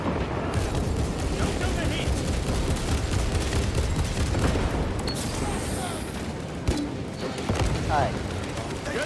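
Video-game gunfire rattles in a dense, loud, continuous fusillade with heavy booms mixed in. Voices are heard under the shooting.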